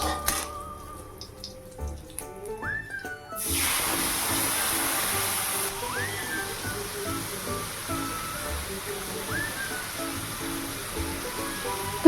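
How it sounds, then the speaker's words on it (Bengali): Cumin seeds, bay leaf and grated ginger sizzle in hot oil in a kadai, a steady loud hiss that starts abruptly after a few seconds and continues unbroken, with faint kitchen clatter underneath. "কড়াইতে তেল দিয়ে দিয়েছি, ফোড়নে দিলাম জিরে তেজপাতা আর আদা গ্রেট করে"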